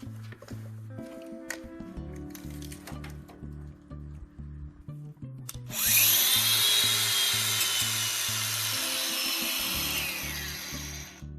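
A battery-powered cutting tool slices through a still-rolled length of material, loud broadband cutting noise kicking in midway after a stretch of lower mechanical hum and handling rattle, then holding steady to the end.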